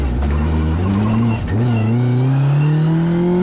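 A Mitjet race car at Magny-Cours, its engine loud and close as it revs, dips briefly during a gear change, then climbs steadily in pitch while accelerating with tyres being warmed.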